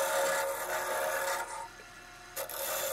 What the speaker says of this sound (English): negative rake scraper.